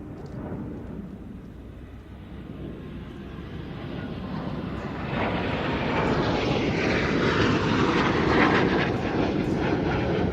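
A jet aircraft with an uprated Rolls-Royce Viper engine makes a display pass at an RAF Mildenhall air show, its broad roar swelling louder about halfway through and holding strong to the end, with no voices.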